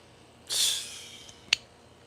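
A person sniffs a fragrance from a bottle cap: one sharp, close inhalation lasting about half a second, then a quick second sniff, with quiet room background and no talk.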